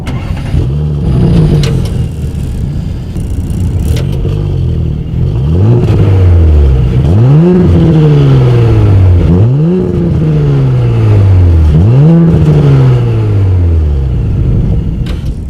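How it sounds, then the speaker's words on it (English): A 2019 Audi S4 with dual exhaust outlets and quad tips revs loudly and close by, sounding four or five rising-and-falling throttle blips over a steady idle, with no talking. "As always, here is that exhaust clip."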